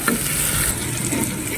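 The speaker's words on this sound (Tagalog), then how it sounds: "Hayaan nating mag-fry yung ating kaunting minced beef." Minced beef frying in a pan for spaghetti bolognese, a steady close sizzle with stirring scrapes running throughout, no voices.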